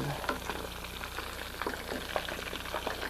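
Shrimp frying in a pan for sweet and sour shrimp, a steady crackling sizzle with scattered pops running throughout, close and moderately loud, with no talk over it.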